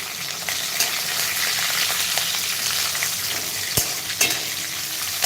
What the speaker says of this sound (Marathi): त्यासाठी जिरे मोहरी शेंगदाणे परतून घेतले हिरवी मिरची